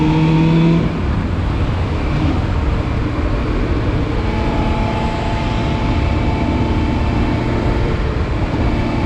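Motorcycle accelerating out of a roundabout, its engine a loud, steady broadband roar close to the microphone, mixed with heavy wind rush.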